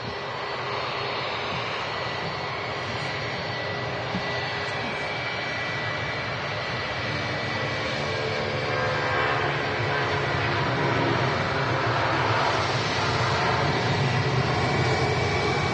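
Jet airliners at Manchester Airport give off a continuous, broad engine roar at a moderate distance, swelling slightly louder toward the end with no voices.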